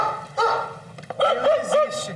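Dogs bark in a few sharp, close yips and woofs across a couple of seconds, loud and near, with no talk over them.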